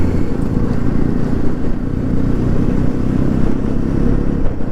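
KTM motorcycles riding past on a mountain road, a steady loud engine rumble with a low, throbbing drone that carries on unbroken and close.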